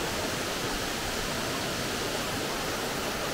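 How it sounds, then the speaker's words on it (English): Crabtree Falls in the Blue Ridge Mountains rushes as a dense, unbroken roar of falling water over rock, close and steady throughout with no voices. "That waterfall, it was like injecting steroids into me or something."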